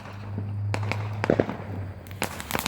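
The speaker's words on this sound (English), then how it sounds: "there's gonna be a surprise explosion in a few seconds." A July 4th fireworks display: a sustained whistling rise followed by several sharp explosive bangs and crackling pops, fairly close and loud, with no talking.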